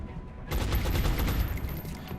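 A burst of suppressing automatic gunfire in the XCOM: Long War strategy game erupts after a brief quiet moment, a loud sustained rattle of rapid shots lasting well over a second.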